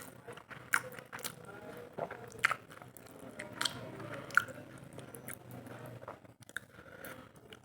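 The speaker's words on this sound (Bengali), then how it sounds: "চলো খাই মাছের ঝোল দিয়ে, গরম গরম।" Rice with hot fish curry is eaten close to the mic: soft, irregular chewing and mouth sounds with small wet clicks, continuing quietly throughout without talk.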